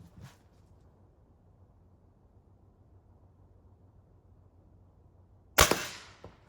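Spring air rifle firing a 7.6 grain Crosman pellet at a target: after several seconds of near silence, one sharp, loud crack with a brief ringing tail, preceded by a faint click at the start.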